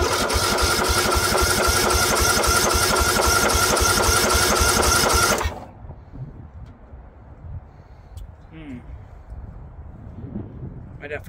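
Small engine of a 2004 Murray 12.5 HP lawn tractor with a 38-inch deck cranking in rapid rhythmic chugs for about five seconds, then cutting off abruptly into quiet with faint handling noises.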